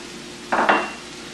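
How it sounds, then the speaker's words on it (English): A spoon scrapes and clinks against a pot twice while seasonings of salt, pepper, thyme, cayenne, dry mustard and cumin are stirred into jambalaya, two quick close strokes over a quiet background. "We mix that up really well."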